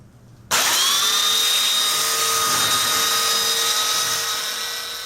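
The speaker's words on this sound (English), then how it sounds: "Before we put the skirt on, we need to sand the edges." Power sander grinding along the edges of a homemade hovercraft base before the skirt goes on, a loud steady whine that starts abruptly after a short quiet moment and holds continuously to the end.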